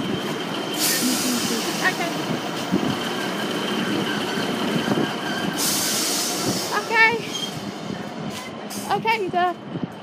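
A passing train bound for Derby rumbles through with broad, steady noise and a few squealing, tonal bursts, while people talk nearby over it.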